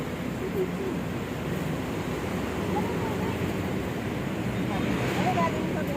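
Water and waves wash steadily in a continuous broadband rush, fairly loud and close, with faint voices now and then beneath the surf.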